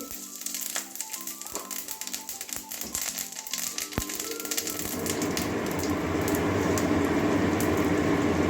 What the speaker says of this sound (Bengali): আমার তেলটা একটা শুকনো লঙ্কা দিয়ে দিচ্ছি ফোড়নে গোটা জিরে দিয়ে দিচ্ছি